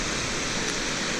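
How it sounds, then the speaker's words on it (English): The cold Neretva River flowing through Mostar, a steady, dense rushing wash of water that fills the short stretch without pause and with no voices. "we have the main river of the city, the Neretva River"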